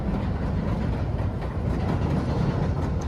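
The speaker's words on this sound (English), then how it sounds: "That noisy train going overhead is a Chicago L" A Chicago L elevated train rumbles loudly overhead, a dense continuous roar of wheels and cars on the elevated track with no pauses throughout.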